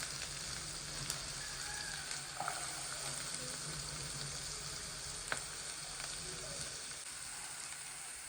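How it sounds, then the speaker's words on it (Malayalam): Vegetables frying in hot oil for a Yippee noodles dish send up a steady, dense sizzle throughout, with a few faint clinks and stirring sounds over it. "ഇനി നമുക്ക് വെജിറ്റബിൾസ് ഇട്ട് കൊടുക്കാം കേട്ടോ"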